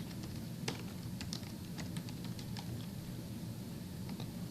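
Light, uneven clicking of a computer keyboard being typed on, faint and close, with scattered sharper keystrokes over a low steady background hum.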